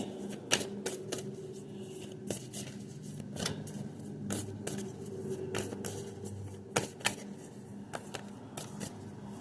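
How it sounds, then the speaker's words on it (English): Quick, papery riffles and snaps of oracle cards being shuffled, coming in short irregular bursts over a low steady background hum. "Sorry about all the shuffling."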